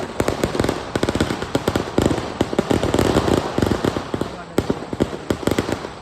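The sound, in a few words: firecrackers going off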